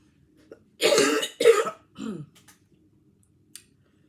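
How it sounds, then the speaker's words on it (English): Two sharp coughs in quick succession followed by a softer throat-clearing rasp, close and isolated against near silence, with a faint click afterward. "keep coughing"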